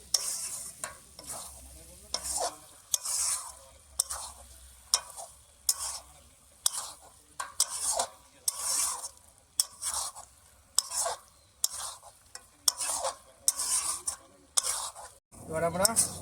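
Spice-coated young goat meat is stirred in a pot at an outdoor winter picnic, with a ladle scraping through it in regular, repeated strokes, each a short wet scrape with brief pauses between, over a faint sizzle.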